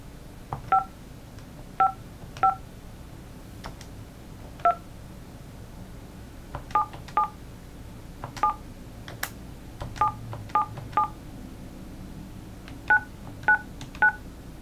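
An LG iPECS office phone keypad gives short two-tone beeps as buttons are pressed, about twenty crisp tones in irregular clusters separated by pauses, close and clear over faint background hiss, with no talk.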